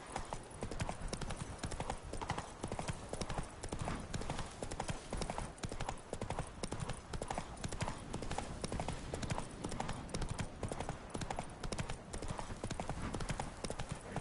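Roach the horse trotting in The Witcher 3 Wild Hunt next-gen on PS5, hooves clip-clopping in a steady, continuous rhythm throughout, loud and close against a dense game soundscape.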